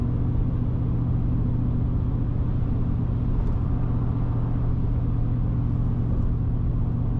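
A 2023 Ford Raptor R truck on 37-inch tires, in sport suspension mode, drives along with a steady low engine and road rumble heard from inside the cab.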